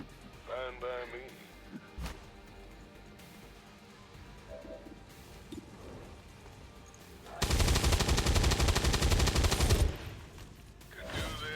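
Rapid automatic gunfire from a firefight in the video game XCOM 2, a loud sustained burst of about two and a half seconds following quieter scattered game sounds.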